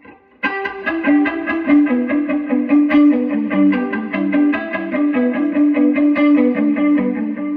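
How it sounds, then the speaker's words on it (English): An electric guitar plays a quick, repeating picked riff with a lingering reverb tail behind each note, up close and steady. "I added the reverb there, that's all."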